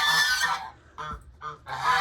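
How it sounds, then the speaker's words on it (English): Several geese honk loudly and close by in quick bursts, a call at the start, two shorter honks in the middle and another at the end, with no voices. "There's the geese."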